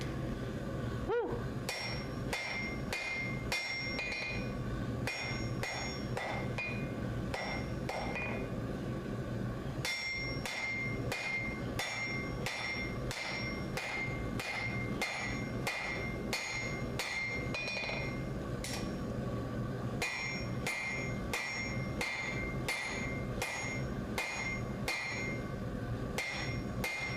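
Steady, rapid hammer blows ring out on hot metal at an anvil while a workpiece is forged into its basic shape, the metallic strikes continuing almost without pause throughout, close and prominent.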